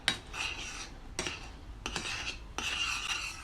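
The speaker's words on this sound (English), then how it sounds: "So after about 10 minutes I'm going to add coconut powder and stir that." Spoon stirring coconut powder into a warm, thickening mixture for brioche rolls in a pot, with several separate bursts of scraping and clinking close by.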